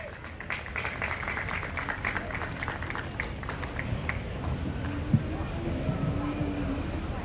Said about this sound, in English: Would you please give a big round of applause to Mr. John Yedovich.